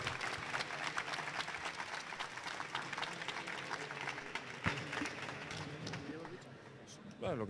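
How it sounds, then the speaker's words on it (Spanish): An audience at a robotics event applauds steadily, many hands clapping in a dense continuous wash that carries on throughout before tapering at the end as a voice begins. "Un aplauso a Albert también."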